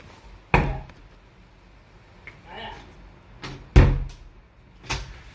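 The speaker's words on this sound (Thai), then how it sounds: "เคาะประตูด้วยสิ" A few separate sharp knocks or thuds on a door at a birthday gathering at home, spaced seconds apart and loud against a quiet room, with faint voices nearby.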